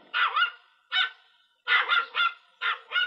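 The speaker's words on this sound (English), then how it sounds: "It's a little dog." Small dog barking in short, high, yappy bursts, mostly in quick pairs, six barks in all, fairly close and loud with clear pauses between.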